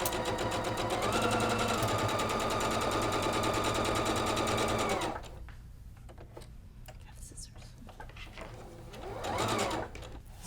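A sewing machine stitches a Friendship Star variation quilt block with a loud, steady, fast whirring chatter for about five seconds, then stops; softer handling noises follow, and a brief burst of stitching returns near the end.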